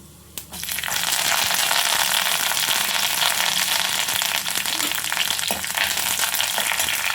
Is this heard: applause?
no